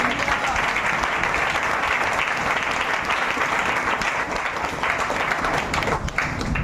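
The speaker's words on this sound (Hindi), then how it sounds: "ताली बजाएं जोरदार।" A church congregation claps loudly and continuously during a pastor's prophetic message, a dense, sustained wall of applause with no pauses.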